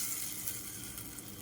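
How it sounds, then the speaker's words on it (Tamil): Cumin seeds tempered in hot oil and poured into onion chutney give a loud, dense, close crackling sizzle that fills the whole moment without a break. "இப்போ பார்த்திங்கன்னா எண்ணெயில் வெறும் சீரகம் மட்டும் தாளித்து இப்போ இந்த சட்னியில் கொட்டிடலாம்"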